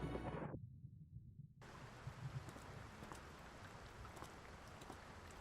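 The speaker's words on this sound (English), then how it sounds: "Obviously, for spooky painting times, it's raining." Steady rain ambience in the Layers of Fear horror game, a soft continuous hiss of falling rain after a brief cut, faint and even throughout.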